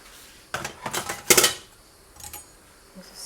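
A knife chopping onions finely on a cutting board, a quick cluster of sharp clattering chops followed by a few lighter taps, close and fairly loud with no talk.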